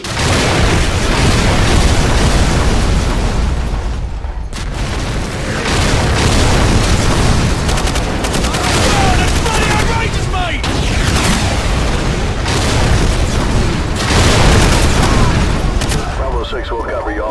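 Artillery fire mission explosions in the video game Call of Duty Modern Warfare, loud continuous booms and blasts with gunfire mixed in, and radio voices talking over the barrage.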